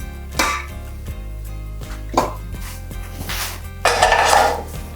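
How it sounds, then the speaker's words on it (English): Brownie batter stirred in a bowl with a spatula, a few close scraping strokes with light knocks against the bowl, moderately loud over a low steady hum, no talking. "And just a couple stirs with my spatula."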